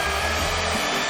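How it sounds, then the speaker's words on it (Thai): A kitchen blender whirring steadily on milk, a continuous close motor drone running throughout without a break. "นมนิดหน่อย แล้วก็ปั่น"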